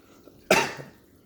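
A single short, sharp cough, close and distinct against quiet background.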